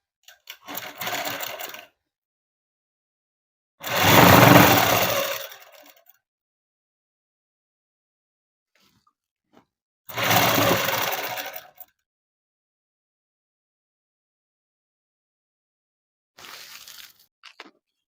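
A sewing machine stitches a dress for a six-to-seven-year-old child made from a saree, running in three distinct close, loud bursts separated by silence, with a shorter, fainter run near the end.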